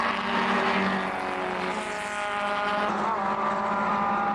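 Historic Elva race cars roar past at Mallory Park in a loud, continuous wash of engine noise that swells and fades slightly as the pack passes during a vintage race.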